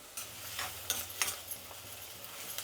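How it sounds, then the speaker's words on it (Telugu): Onions frying in hot oil in a pan for restaurant-style red gravy, a soft, steady sizzle with a few brief scraping stirs, faint and close. "ఆయిల్ వేడెక్కిన తర్వాత ఎర్రగడ్డలు వేసుకుందాం. ఎర్రగడ్డలు బాగా వేగాలండి."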